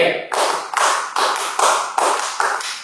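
Young church members clap together in a patterned rhythm at a GPIB Bethel Bandung service, a series of evenly spaced, punchy unison claps with a dull thump to each and slight room echo.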